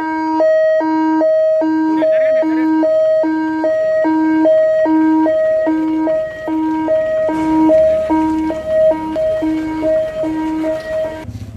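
An ambulance siren wails close by in a repeating two-tone up-and-down pattern, loud and steady, with crowd noise rising underneath toward the end.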